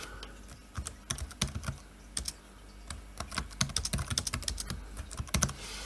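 Typing on the keyboard of an IBM ThinkPad 240 laptop: a steady run of close, crisp key clicks in irregular bursts, with no voices over it.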